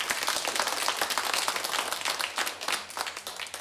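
Audience applause after a stage segment, steady dense clapping heard from a moderate distance and fairly quiet, with no talk over it.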